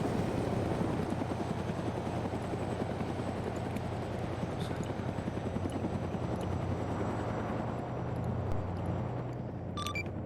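Helicopter taking off in the military video game Arma, a steady loud rotor thump and engine drone continuing throughout, with faint chatter and a few beeps late.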